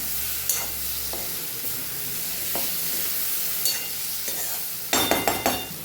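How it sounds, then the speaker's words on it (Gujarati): Raw gram flour is stirred and sautéed in a pan on a low flame for a Kathiyawadi cucumber dish, with a soft continuous sizzle and scattered scraping strokes that turn into quick, clinking stirs near the end. "ગેસ ધીમો કરી દઈશું અને એને આપણે સાતળશું એટલે આપણો લોટ સરસ પાકી જાય"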